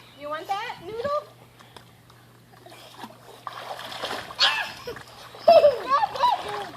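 A child in a pool wearing a swim vest, with a foam noodle nearby, kicks and splashes in bursts while other children's and adults' voices chatter and call out over the water.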